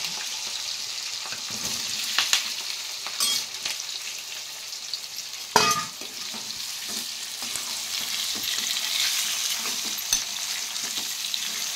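Potato pieces fry with mustard seeds in a pan, giving a steady bright sizzle broken by occasional scrapes and clatters as they are stirred, close and without talk.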